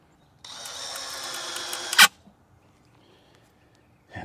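A power drill driving a screw into a wooden 2x4 dragon fruit trellis: a close, loud whirring run of about one and a half seconds ending in a sharp clunk as the screw seats, then near silence.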